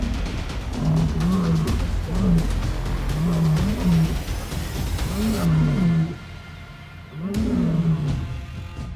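Two lions squaring off, giving repeated deep, rumbling roars in a rhythmic series of grunting bursts, loud and close, with a short lull before a final roar.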